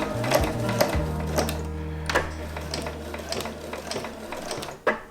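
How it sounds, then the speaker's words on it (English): A domestic sewing machine stitches a seam in fabric for a cap, running in short bursts forward and then a couple of reverse stitches, its motor hum and needle clatter close and steady with small clicks between runs. "I'm going to put it under the machine, sewing at 1 centimetre seam allowance"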